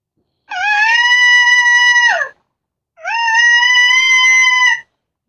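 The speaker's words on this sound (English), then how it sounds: "This is a fawn bleat." Fawn bleat predator call recording, two loud, drawn-out, nasal bleats of about two seconds each, separated by a short silence.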